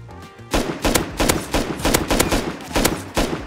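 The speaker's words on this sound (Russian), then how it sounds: "Он по бичу стреляет, он с глушителем, слышишь?" Suppressed gunfire in the video game Rust, a rapid string of about a dozen muffled, close shots in an uneven burst that starts abruptly after a quiet moment.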